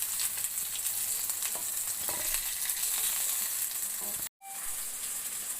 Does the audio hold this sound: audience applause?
no